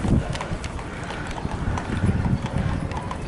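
Horses walk past outdoors at a historic village, hooves clip-clopping in an uneven rhythm on hard ground, moderately near, with wind buffeting the microphone.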